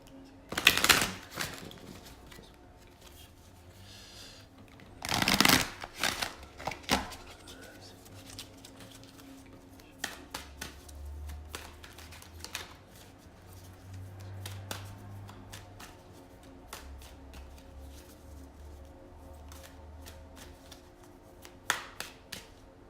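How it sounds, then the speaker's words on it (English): Rumi oracle cards being shuffled by hand: two loud bursts of riffling near the start, then scattered soft card taps and rustles at close range, with no talking. "We're going to pull one of these cards."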